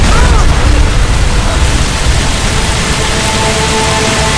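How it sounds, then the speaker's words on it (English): The Air France 358 airliner explodes in a loud, dense roar of broadband noise that holds steady throughout, close and overwhelming, with no distinct separate booms. "the plane blew up."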